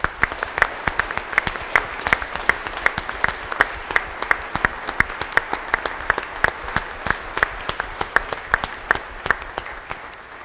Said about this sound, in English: Why don't we express our love, our affection, and our congratulations to all the confirmandi with a strong round of applause.